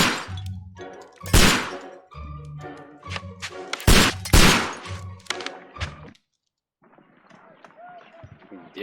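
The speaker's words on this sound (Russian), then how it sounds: "Я думал, для револьвера слишком много выстрелов." A rapid series of loud, sharp revolver gunshots in a Sherlock Holmes video game rings out in close succession, followed by a brief pause and quieter clattering noises.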